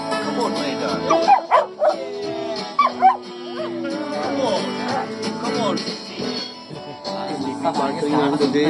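A dog barks and yips in short bursts close by, with whimpering tones in between and a steady background hum.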